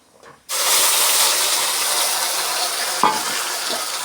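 Ground masala paste hits hot oil with mustard seeds for a rajma curry and bursts into a loud, steady sizzle after a brief quiet start, crackling on with a small clatter near the end.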